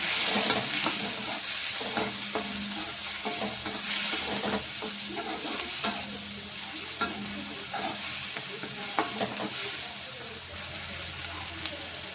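Tempering sizzling in hot oil in a pan for a wheat flour dish, a continuous close crackling hiss with repeated stirring clinks and scrapes of a spoon throughout.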